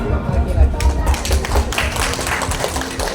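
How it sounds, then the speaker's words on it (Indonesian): A workshop audience of teachers claps together in brief rapid bursts, the applause fairly close and loud, with people talking over it. "Kasih aplaus dulu untuk kita semua."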